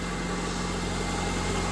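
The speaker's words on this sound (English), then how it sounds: "I needed to turn on the engine so I could go ahead and finish the bleeding process of the coolant." Engine of a 2004 Honda Civic EX idling after a head gasket change, a steady, dense running hum with constant low rumble, close and continuous throughout.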